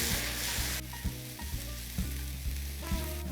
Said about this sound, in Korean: 사과가 노릇한 색을 낼 때까지 볶아주면 됩니다.